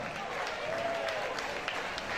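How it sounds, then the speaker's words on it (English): Audience applause at an EBA boxing event for a man who raised awareness for Grenfell Tower victims: steady, dense clapping from a crowd in a large hall, even and sustained, with faint voices mixed in. "this man deserves a massive round of applause"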